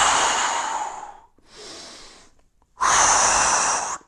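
Breathing during a resistance band arm exercise: three forceful, close breaths through the nose and mouth, with short pauses between them and no talking.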